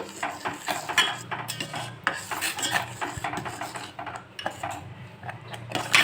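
A spoon stirs semolina (suji) cooking in a pot, producing repeated scraping and rubbing strokes against the metal in an uneven rhythm, close and moderately loud.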